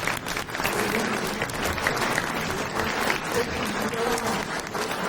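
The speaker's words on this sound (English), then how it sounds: "let's all give our panelists a big round of applause" An audience at a county climate summit claps for a panel, a thick, steady wash of applause filling the room at full strength throughout, with no voices rising above it.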